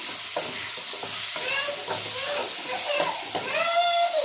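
A spoon scrapes and stirs spices frying in a sizzling pan, steady frying hiss underneath with irregular scraping strokes, close up and no talking.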